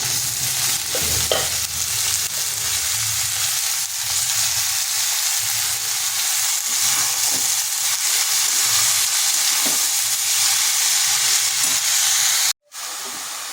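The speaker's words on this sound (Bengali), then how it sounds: "এরপর দিয়ে দিচ্ছি কেটে রাখা কপিগুলো।" Cut cabbage is tipped into a hot pan for a vegetarian dish and sizzles loudly and continuously, with stirring scrapes throughout and a sudden brief cut near the end.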